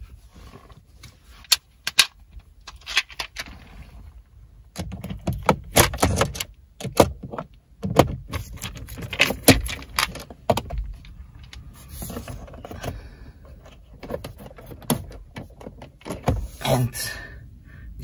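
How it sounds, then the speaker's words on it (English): A ratchet or power tool removes the bolts holding the instrument cluster of a Volkswagen e-up, giving irregular bursts of clicking, whirring and clunks close by, with quiet gaps between. "So, let's remove the bolts."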